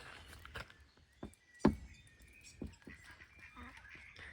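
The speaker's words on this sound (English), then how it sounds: "These are not native ducks, but they're cute." Scattered duck quacks and honks sound at a distance over a quiet outdoor background at Abbey Caves, with one louder call standing out among softer ones.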